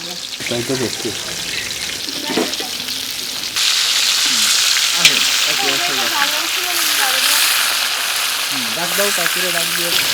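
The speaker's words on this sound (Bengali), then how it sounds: "পুঁটি মাছগুলো একভাবে ভেজে নিচ্ছি" Puti fish fry in a pan with a loud, steady sizzle and spatter that grows stronger partway through, while a voice talks and hums over it at intervals.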